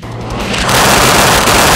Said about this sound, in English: The 20mm M61 Vulcan cannon is capable of 100 rounds per second.